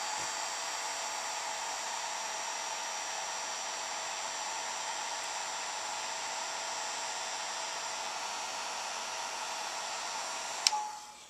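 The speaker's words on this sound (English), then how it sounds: "I hope the heat gun isn't too loud and bothers you." A heat gun blows steadily and loudly at close range while heating Penscore foam for embossing, a continuous even whoosh that cuts off abruptly with a click near the end.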